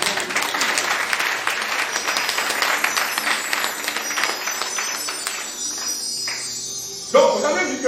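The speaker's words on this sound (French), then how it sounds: "Acclame Jésus." A church congregation applauds and cheers in acclaim of Jesus, a dense burst of clapping that fades after several seconds before a brief noisy jolt at the end.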